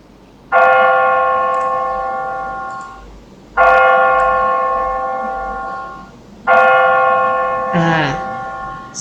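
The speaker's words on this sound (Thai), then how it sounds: "เสียงระฆังที่ดังนี้" A large bell is struck three times at slow, even intervals, each deep ringing tone fading before the next, with a brief voice-like sound near the end.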